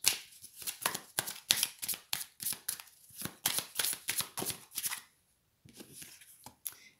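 Tarot cards are shuffled by hand close up, with quick bursts of crisp riffling and slapping in an irregular rhythm, a brief silent gap, then a few more soft shuffles, with no voice.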